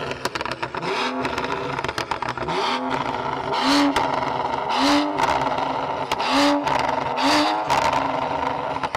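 A 400 hp BMW 535i F10 fitted with a Remus exhaust accelerates hard through repeated gear changes, its engine note climbing in pitch and dropping at each shift, loud and sustained throughout.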